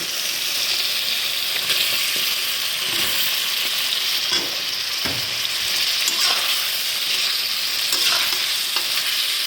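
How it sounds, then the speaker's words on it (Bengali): Potatoes and soybean chunks frying in spiced masala in a hot pan give a loud, steady sizzle with occasional stirring scrapes throughout. "মশলাটা কষা হয়ে এসছে। এবার আমি আলু আর সয়াবিনগুলো দিয়ে দিই।"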